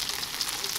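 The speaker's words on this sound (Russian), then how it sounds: "Брызгает, ай, во все стороны. А это из-за того, что масла много. Так. Масло брызгается." Oil spatters and sizzles steadily in a frying pan where a millet dish cooks in plenty of oil, giving a continuous close hiss with no pause or voice.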